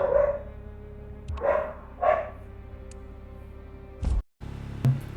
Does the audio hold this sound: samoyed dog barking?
yes